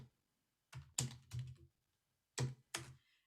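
A handful of close keyboard keystrokes typing a search word on a computer, in two quick clusters separated by a short pause, with no talk.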